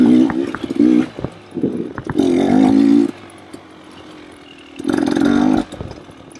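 A KTM or Beta dirt bike engine ridden in fourth gear, loud and close, blipping in short bursts and then holding steady revving pulls, separated by quieter idle-like stretches.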